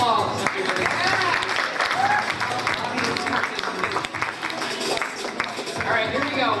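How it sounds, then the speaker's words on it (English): Crowd at a Menorah lighting in the Cape Cod Mall breaks into applause, brisk clapping mixed with voices and cheers throughout, lively and close. "Round of applause, everybody."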